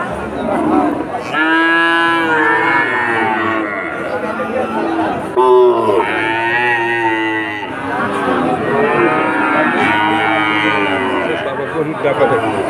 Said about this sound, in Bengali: খুব সুন্দর এক বাছুর দর্শক, একটা বকনা বাছুর, দারুণ একটা বকনা